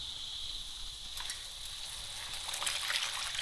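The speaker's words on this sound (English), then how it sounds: "And then I'm just going to add the rest in water." Water pours steadily into a cooking pot for a mushroom dish in the Philippine countryside, a continuous close splashing trickle that grows a little louder toward the end, with no talking.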